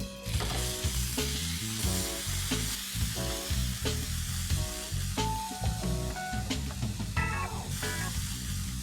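Mutton being spooned in and frying with onions, a constant crackling sizzle with stirring scrapes, close and busy, with background music playing beneath.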